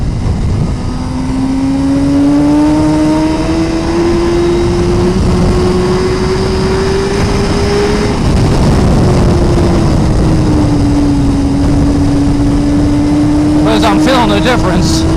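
A 2017 Suzuki GSX-R1000R sportbike engine drones steadily while ridden hard, its pitch rising and easing slightly with throttle over loud wind roar, a few faint clicks near the end.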